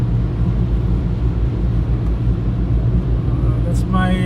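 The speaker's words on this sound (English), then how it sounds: "driving it now, testing it on the highway" BMW E46 cruising on a highway, a loud steady low engine and road rumble heard from inside the cabin, continuous throughout, with a short beeping tone near the end.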